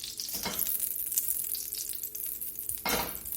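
Butter sizzles and crackles in a pan as it starts to brown for a roux, a continuous close hiss with two louder bursts of spatter and a faint metallic clink, no voices.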